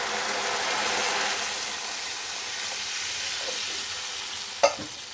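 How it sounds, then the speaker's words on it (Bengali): Fish curry gravy poured into a hot pan gives a steady, close sizzling hiss throughout, with one brief louder splash or clatter near the end. "এবার আমি ঝোল দেব।"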